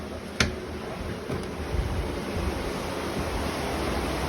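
Floodwater rushing through a narrow lane during Cyclone Fengal: a steady, broad roar of flowing water with wind buffeting, continuous and fairly loud, with a sharp knock near the start and no voices.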